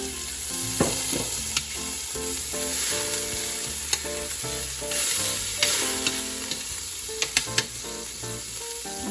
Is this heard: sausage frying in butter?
yes